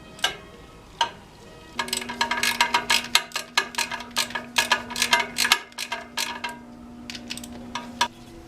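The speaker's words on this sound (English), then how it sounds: "So I want to get these nuts loosened up with the extension." A ratchet on an extension working at the exhaust nuts of a 1982 Suzuki GS1100E motorcycle, a quick train of sharp metallic clicks and clinks over a faint steady hum, close and without speech.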